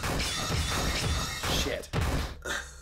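A firebomb attack in the video game LISA lands as a burst of loud, noisy crashing and thumping, broken by brief gaps, with a final crash near the end.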